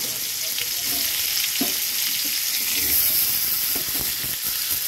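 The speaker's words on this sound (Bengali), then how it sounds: "মাছ ভাজা তেলের মধ্যে আমি কিছুটা সেদ্ধ করা ফুলকপি আর আলুটাকে একটু হালকা তেলে ভেজে নেব" Boiled cauliflower and potato pieces frying in a little oil left over from frying fish, a dense continuous sizzle with a few light stirring scrapes.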